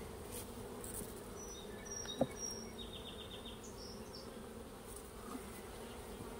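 Honey bees buzz steadily around brood frames lifted from a nuc hive of VHS bees, a dense, continuous insect drone with no talk, plus one brief sharp tap partway through.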